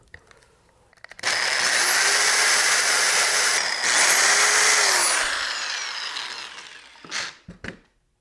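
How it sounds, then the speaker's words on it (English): A power drill bores a 1/8 inch hole through a dimple in a disc, a loud sustained high whine that dips once midway, runs several seconds, then spins down into a few brief clattering bursts. "I'm just going to drill into this one of these dimples here"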